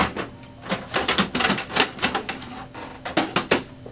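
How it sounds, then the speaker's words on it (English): The paper tray of an HP OfficeJet Pro 9015 printer is pulled out, giving a quick series of plastic clicks, rattles and scrapes, close and moderately loud, with no talking. "We're going to pull out the tray."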